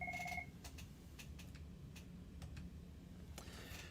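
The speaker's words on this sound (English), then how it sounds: "Sorry, I'm getting a phone call" A telephone rings briefly during an online meeting, a short two-tone electronic trill at the start followed by faint scattered clicks and ticks in a quiet room.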